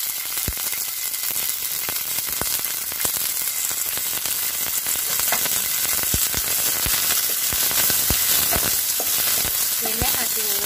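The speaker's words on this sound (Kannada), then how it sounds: "ನೋಡಿ ನಾನೀಗ ಗೋರಿಕಾಯಿ ಹಾಕಿದ್ದೀನಿ, ಇದಕ್ಕೆ ಸ್ವಲ್ಪ ಎಣ್ಣೆ ಹಾಕ್ತಾ ಇದ್ದೀನಿ." Cluster beans fry in oil in a pan, giving a steady, close sizzle with frequent sharp crackles and pops through the whole stretch, with no talking.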